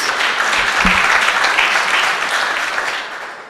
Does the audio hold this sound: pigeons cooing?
no